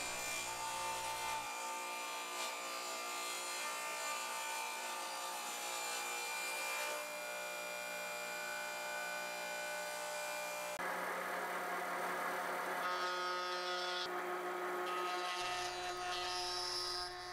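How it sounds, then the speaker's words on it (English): A table saw cuts through a scrap piece of plywood, a steady whining buzz of the blade running on and off through the wood with a few breaks and changes in pitch, close and without talk. "Over at the table saw, I'll cut a scrap piece of plywood I had to the dimensions I will need for the bottom of the"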